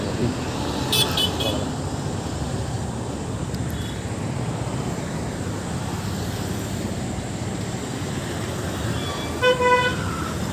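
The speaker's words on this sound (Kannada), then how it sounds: "JC 3424 ಗಾಡಿ ಹೋಗ್ತಿದೆ." Road traffic with a vehicle passing, a continuous engine and tire rumble with short car horn toots near the start and end.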